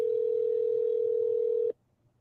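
A steady telephone dial tone holds at one pitch for under two seconds and then cuts off abruptly, leaving near silence.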